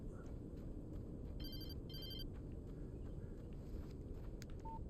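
Telephone ringing in the game Alan Wake Remastered: two short electronic trilling bursts in quick succession, faint and thin above a heavy, rumbling background.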